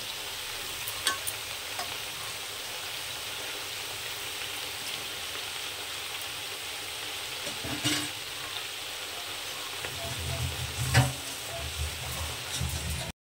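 Eggplant and mixed vegetables fry in a pan with a steady, dense sizzle throughout, broken by a few scraping stirs near the end, close and fairly loud, no one speaking.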